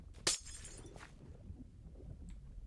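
A glass block breaks in the video game Noc'Craft with one short, bright shatter near the start, followed by faint low ambient rumble of flowing water.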